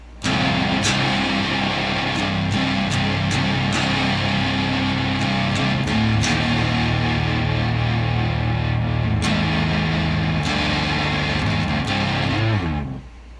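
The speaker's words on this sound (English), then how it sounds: "on the clean channel, no effects, no tone manipulation. And I ran the fuzz pedal through it" An electric guitar played through a fuzz pedal into an amp's clean channel, a thick, crushing distorted tone with sustained chords and sharp pick attacks, loud and continuous with a sudden stop at the end.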